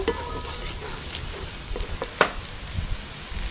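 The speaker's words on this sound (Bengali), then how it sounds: "পেঁয়াজটা লাল লাল করে ভেজে নেব" Chopped onions fry in a pan with dried red chilies and cumin, a soft steady sizzle under brief spoon scrapes and a few sharp clinks, close and fairly quiet.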